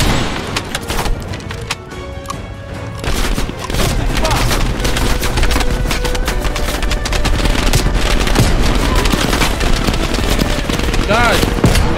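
Rapid automatic gunfire from Call of Duty: Black Ops Cold War on PS5, dense bursts of shots rattling continuously with booms mixed in, loud throughout while a player talks over it.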